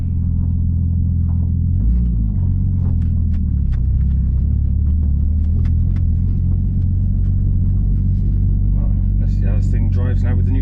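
Car out on a road test after a turbo swap, with a steady low engine rumble running throughout from inside the cabin, and a brief rising whine near the end.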